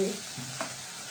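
Okra and egg sizzle steadily in a hot pan as they stir-fry, a continuous crackling hiss with a soft stirring scrape partway through.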